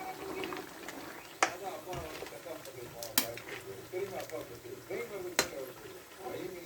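A spoon stirs shrimp curry with coconut milk in a pan, giving soft scraping strokes and a few sharp clinks over a gentle simmer while someone talks.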